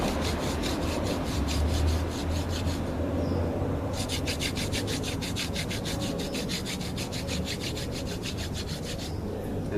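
A wooden shaft spun by hand as a drill, boring a hole through wood to make an arrow straightener, gives a steady rasping rub with rhythmic strokes that pause briefly midway, close and continuous.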